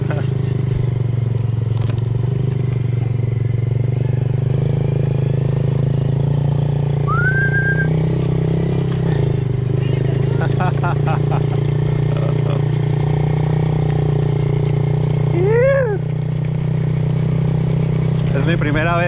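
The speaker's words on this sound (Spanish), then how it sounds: "Primera vez en una mini moto." A mini motorbike engine idles with a steady, close low hum throughout while people talk and make brief exclamations over it.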